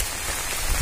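Rain falls steadily in the Konkan hills near Rajapur, a close, continuous hiss of drops on surfaces with no voices.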